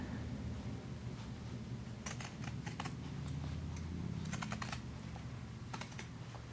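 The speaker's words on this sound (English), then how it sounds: "I am going to go ahead and use my pinking shears" Pinking shears cut through fabric in short crisp snips, a quick cluster near two seconds and another near four and a half, close and quiet over a steady low background hum.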